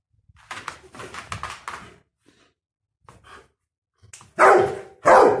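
A dog gives two loud, sharp barks near the end, after a stretch of quieter shuffling and scattered softer sounds.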